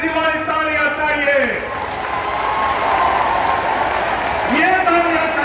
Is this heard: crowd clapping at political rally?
yes